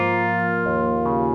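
A Casio CZ-101 synthesizer plays a sustained tone whose harmonic-rich waveform changes in two distinct steps, giving a buzzy, bright, steady timbre that shifts character abruptly.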